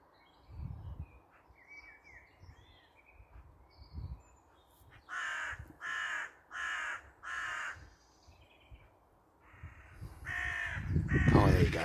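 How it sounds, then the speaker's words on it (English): Several crows caw in a run of four harsh, evenly spaced calls, then more caws later, with low thumps and rustling nearby, in a tree where crows and magpies are fighting over territory. "big crows come in. There's three of them now."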